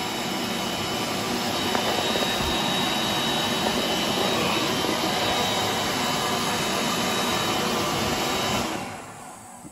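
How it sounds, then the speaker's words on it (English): A loud electric hand dryer with a loose nozzle blasts air in a steady roar for several seconds, then cuts off abruptly near the end. "Nozzle's a bit loose in this dryer."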